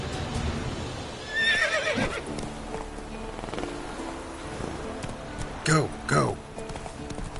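Roach the horse in The Witcher 3 whinnies in a couple of sharp bursts over a steady run of hoofbeats, with someone shouting briefly above the game sounds.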